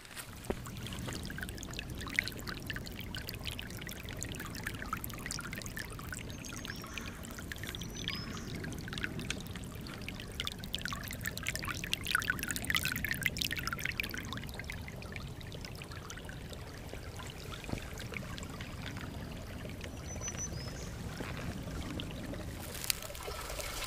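Water runs steadily into a hole in the ground beside a small creek in the Cheaha Wilderness, a continuous mid-level trickling and pouring wash that stays constant throughout with no talking.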